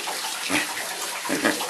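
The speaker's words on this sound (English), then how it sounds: "Rub a dub dub, Pippi's in the tub" Water splashes and runs in a bathtub as a Miniature Schnauzer is washed, with a steady wash of water noise broken by two louder splashing swells, close by and with no talking.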